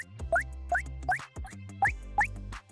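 Five short, bright electronic video game pickup chimes made in GDevelop, each sweeping upward in pitch, arrive in quick pairs over a low, sustained synth backing.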